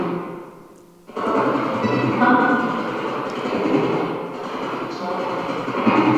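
Spirit box radio sweeping through stations, a loud continuous noisy wash of static and garbled fragments starting abruptly after a brief quiet moment, steady and dense throughout.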